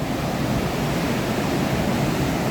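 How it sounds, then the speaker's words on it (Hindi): Loud, steady roar of rushing water pouring through a dam near Haridwar, heading toward Har Ki Pauri, a continuous broadband wash filling the whole clip with no voices. "आवाज़ सुनो पानी की।"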